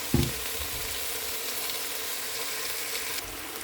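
Green peas frying with fully cooked meat in a handi, a sharp clatter as they hit the pot and then a steady close sizzle that carries through to the end.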